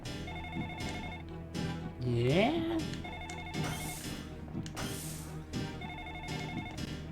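A fax machine phone rings repeatedly inside The Ring: Terror's Realm, with evenly spaced electronic ring bursts heard fairly faint under game sounds and a person talking briefly.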